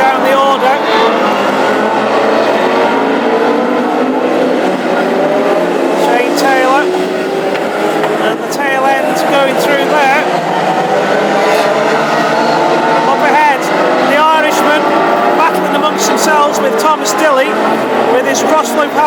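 Classic hot rod race cars, including a cross-flow powered machine and a Pinto, roar continuously around the Hednesford oval during the Bill Morris Memorial English Open Final, a dense engine drone under steady commentary.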